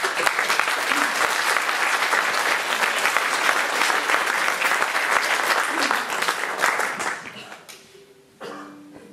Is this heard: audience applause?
yes